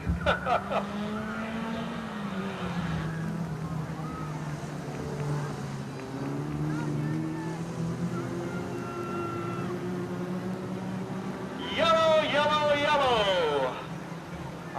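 Hornet-class race cars on the Peoria Speedway track, engines droning at a distance and rising as they pass, with a louder close pass near the end while people talk throughout.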